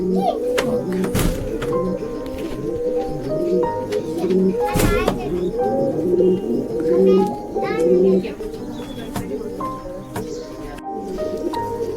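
Pigeons cooing steadily in a loft, soft repeated coos close by with scattered wing flaps and other birds, while people talk over them throughout.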